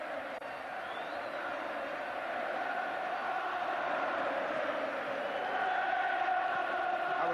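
A large football crowd at the 1990 FA Cup Final replay between Manchester United and Crystal Palace applauds the winners in a steady, distant wash of clapping and cheering that swells slightly toward the end.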